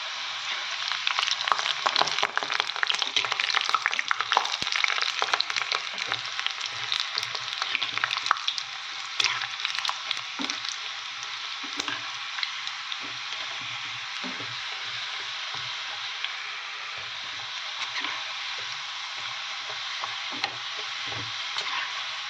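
Cashew pakoda fries in hot oil with a dense, steady sizzle and bubbling, loudest early on and easing slightly later, heard close up with almost no talking.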